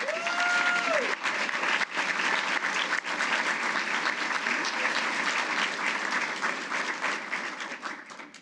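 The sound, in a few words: audience applause for award winners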